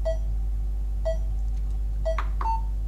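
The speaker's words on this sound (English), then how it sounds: "or obviously turn it off if I don't want that beeping" A DSL-8001 monitor gives short, regularly spaced beeps about once a second over a constant low hum, with a couple of brighter tones near the end.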